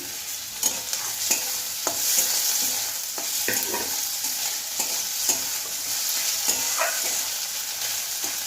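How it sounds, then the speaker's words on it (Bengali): Chopped tomato hits hot oil in a frying pan for a home-style Bengali kochur loti with prawn dish, giving a steady soft sizzle broken by several sharp stirring scrapes and clicks, close and alone. "টমেটো কুচিয়ে রেখেছি টমেটো দিয়ে দেবো"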